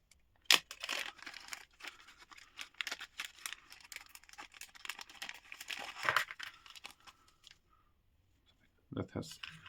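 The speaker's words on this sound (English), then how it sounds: "Let's open the second bag with the resin pieces." A plastic bag holding resin detail-up pieces for a Mitsubishi Evolution model kit crinkles and rustles in irregular bursts. The handling sounds are close, with quieter pauses between them and a final burst of crinkling at the end.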